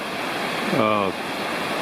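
Sycamore Creek rushes steadily off to one side, forming where two big creeks join in the Cherokee National Forest. A broad, constant wash carries on throughout, and a brief harmonic tone briefly rises over it near the middle.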